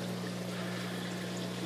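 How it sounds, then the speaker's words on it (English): Water bubbles and churns steadily in a 180 gallon saltwater aquarium with a low water level, making a constant rushing, gurgling wash and a faint hum beneath. "That's why it's bubbling like this."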